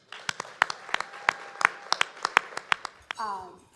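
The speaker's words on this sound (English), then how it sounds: "Let's give her another round of applause." Scattered clapping from a small audience at a student-voices conference session, about a dozen sharp, distinct claps in a loose rhythm, followed by a voice speaking briefly at the end.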